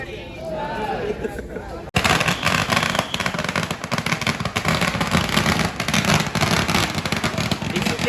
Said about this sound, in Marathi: सुंदर असा फटाक्यांचा मधुर आवाज येत आहे